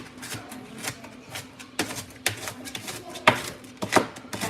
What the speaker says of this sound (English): I'm gonna chop the rest of this up